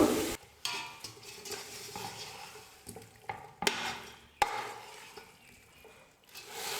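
Mutton biryani masala is sautéed on a medium flame: a soft, continuous sizzle under repeated scraping strokes of a spoon against the pot, with occasional sharper metallic knocks.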